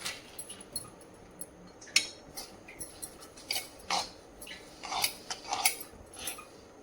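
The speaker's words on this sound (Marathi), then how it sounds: "पूर्ण अडीचशे ग्राम तीळ पूर्ण टाकून दिली" Sesame seeds tipped into a pan of cooked sugar syrup for chikki and stirred, giving faint irregular metallic clinks and scrapes of a utensil against the pan with no talking.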